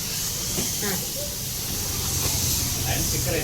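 Chili powder sizzling in hot oil in a pan while cooking a chana aloo masala curry, a steady continuous hiss under a faint speaking voice.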